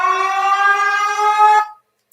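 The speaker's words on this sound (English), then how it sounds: "We got sirens." A steady wailing siren with strong harmonic tones holds loud and even for about a second and a half, then cuts off abruptly into silence.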